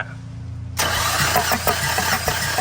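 A Tata truck engine cranks over for a cylinder compression test, a low steady mechanical drone that suddenly turns into a loud, rough, pulsing cranking churn, close by.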